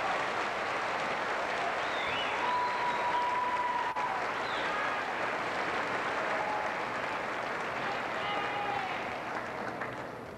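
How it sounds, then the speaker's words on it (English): A crowd at a high school graduation applauds in a long, steady wash of clapping that fades slightly toward the end, with faint voices mixed in. "Let's give these scholars a round of applause."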